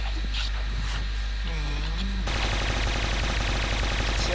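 Video game gunfire with bursts of automatic shots and scattered single shots, with a clear change partway through to a dense, continuous burst of firing.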